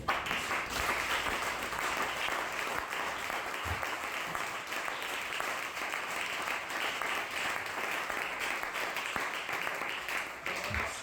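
A church congregation applauds for the Lord in a dense, steady roar of clapping that carries on without a break throughout.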